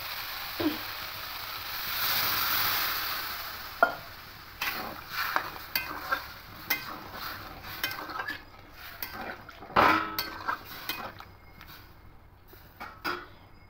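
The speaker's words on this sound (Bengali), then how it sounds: "এবার এখানে জল দিয়ে দেবো।" Water pours into a hot pan of ginger-spiced masala for a rui fish curry, raising a brief hissing surge, followed by repeated clinks and scrapes of a spoon stirring against the pan.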